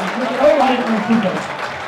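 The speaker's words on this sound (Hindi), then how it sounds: "ये ऑडियंस के लिए एक ताली सब के लिए" Audience applause at a santoor and tabla concert, a steady wash of clapping running throughout while a voice speaks over it.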